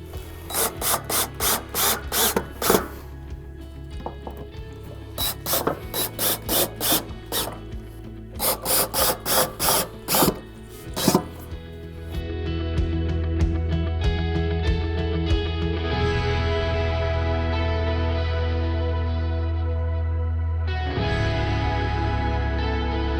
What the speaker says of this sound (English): these brackets will just line up with these pre-piloted holes, and so you'll just install those screws